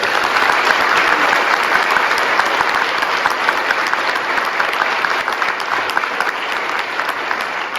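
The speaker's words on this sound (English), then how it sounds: "give our show ambassadors a big round of applause" A large audience at a panel session at a theme park industry expo gives a loud, sustained round of applause for the show ambassadors, a thick, continuous roar of clapping that barely fades.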